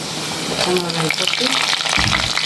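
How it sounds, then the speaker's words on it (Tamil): Onions sautéing in a pan for dried seer fish curry, a close, steady sizzle and frying crackle with a voice murmuring briefly over it and a soft stirring scrape near the end. "வெங்காயத்தையும் இது நல்லா வதங்கட்டும்"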